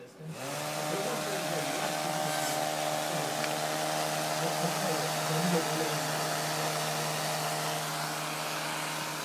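An electric cooling fan blowing across a heatsink runs steadily and close up, a constant whirring hum with tonal overtones that starts within the first second and holds evenly to the end.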